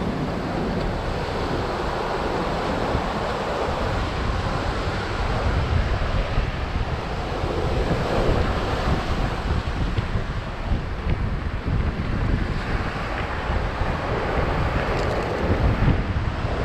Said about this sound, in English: This is Turtle Beach.